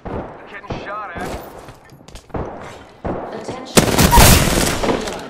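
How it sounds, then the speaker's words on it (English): Gunfire in an Apex Legends ranked match: scattered shots and short bursts crack out, with voices talking in between, ending in a loud, dense burst of rapid fire near the close. "Getting shot at."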